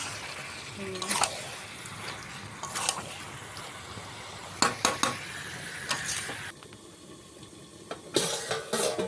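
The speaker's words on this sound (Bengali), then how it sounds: "ভালো করে কষিয়ে নিচ্ছি মাংসটাকে" Chicken meat being stirred in a pan, with a broadband sizzle of frying under irregular scrapes and clinks of a utensil against metal, and a speaking voice in the background.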